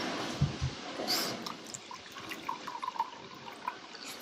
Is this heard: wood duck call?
no